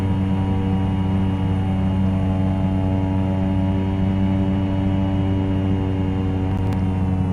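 A Cessna 208 Caravan turboprop with a PT6 engine touches down in the X-Plane 11 flight simulator. A loud, steady engine drone with a low hum runs throughout, and a brief faint tick comes near the end.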